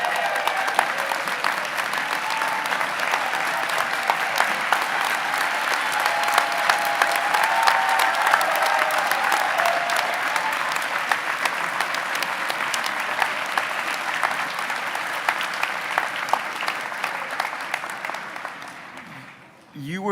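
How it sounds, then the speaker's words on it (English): At a medical school class day ceremony, a large crowd gives the standing mothers sustained applause, a broad, even wash of clapping that runs for many seconds before cutting off abruptly. "you are due so much more than our applause"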